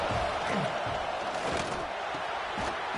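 Alabama football stadium crowd at Saban Field on third down, a dense roaring wash of noise with rising swells, with a commentator's voice faintly mixed in.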